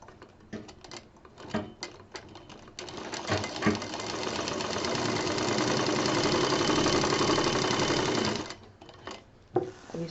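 A sewing machine runs steadily for several seconds, stitching patchwork fabric pieces together for a bed cover, with short bursts of clicks and handling noise before and after the long continuous whir.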